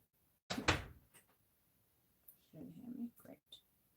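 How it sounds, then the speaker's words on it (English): A door shut with a solid thump followed by short rattles and scrapes, close and fairly quiet, with a voice heard briefly. "Mia, shut my door, please."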